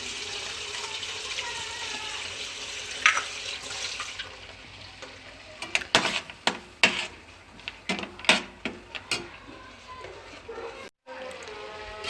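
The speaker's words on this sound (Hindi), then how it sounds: "इसमें थोड़ा सा मैं पानी और मिक्स करूँगी" Water poured from a tap runs steadily into a pan, then a spoon clinks and scrapes as the water is stirred into a thick sweet potato gravy, close by, with a voice talking at moments.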